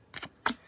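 Pokemon trading cards from a Rebel Clash elite trainer box are briefly handled, with two quick papery shuffles and flicks, close and soft, with no talking.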